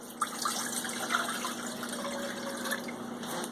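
Water poured into a cooking pot in a home kitchen while making shrimp and grits, a steady close splashing fill that runs throughout without pause, with no talking over it.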